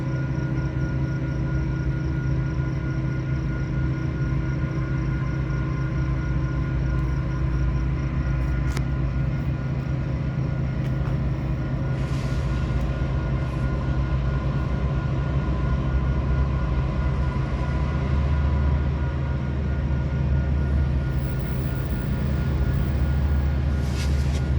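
Eastbound freight train pulling into Fremont, Nebraska for a crew change, with steady locomotive engine drone and rail rumble that holds loud and continuous throughout, without talk.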